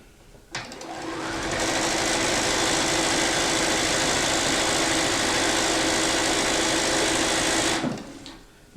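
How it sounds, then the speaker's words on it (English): A sewing machine runs continuously for about seven seconds, stitching quilt pieces together, starting and stopping abruptly with a loud, close, steady whir. "I'm going to sew them together."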